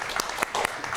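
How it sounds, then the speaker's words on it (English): A small group claps for the administrative professionals at a school district governing board meeting. The applause is brief and fairly quiet, with a few sharper claps standing out. "please give them a round of applause for them"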